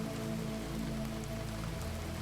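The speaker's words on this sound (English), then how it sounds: "The storm outside intensified, rain now coming down in sheets that obscured the street lamps." Heavy storm rain falls on surfaces in a dense, steady wash of patter, with a low continuous hum beneath it and no voices.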